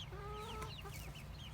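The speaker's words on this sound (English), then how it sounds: "a chicken." A chicken in a dog crate under a tarp gives a quick run of close, clear clucks and squawks, a short burst of several calls.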